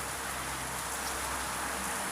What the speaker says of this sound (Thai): เออพี่สังเกตเหมือนกันนะมีฝนตก